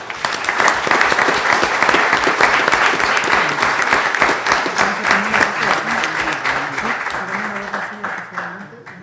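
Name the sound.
audience applause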